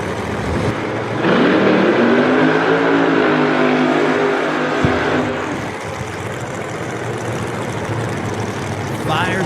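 Funny car drag racing engines roaring at Great Lakes Dragaway during Saturday eliminations, a loud sustained rumble that swells, holds, then drops to a lower drone, with an announcer talking over it.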